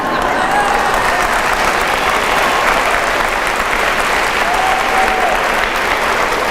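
A crowd applauding steadily, a dense even wash of clapping that holds at the same level from start to finish.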